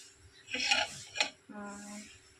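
Metal pot of rice set down on a kitchen stove, a couple of sharp clinks and clatters of cookware close by, followed by a faint steady hum.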